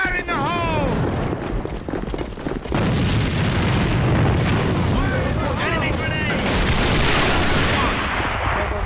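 A grenade explosion in the video game A.V.A, a heavy boom amid ongoing gunfire in a loud, busy firefight, with voices talking over the battle.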